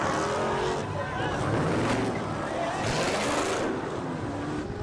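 A Dodge Charger with a 6.4-liter Hemi V8 roars past at high highway speed, loud and near, its engine tone rising and falling over wind and road noise during a police chase.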